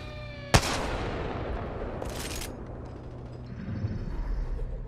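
Grenade explosions in the video game Apex Legends: one sharp loud blast, then a second burst and a low rumbling tail over steady game background noise.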